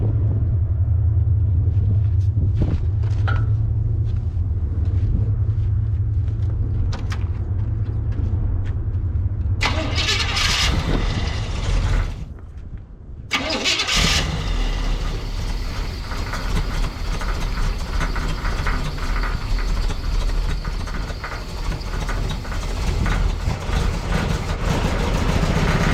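A Can-Am off-road vehicle engine kicks over and settles into a loud, steady rumbling idle, with a short dip partway through before the running engine continues.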